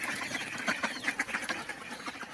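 Ducks on a West Bengal farm, let out of their house in the morning, quack in a busy, overlapping chorus close by, with repeated sharp calls and no talk.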